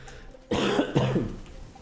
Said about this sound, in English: I've also been waiting to cough for a while, which I'm gonna do right now